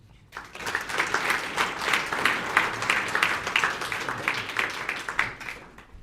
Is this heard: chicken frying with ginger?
no